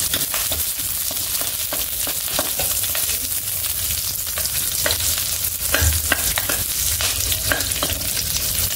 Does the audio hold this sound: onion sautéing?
yes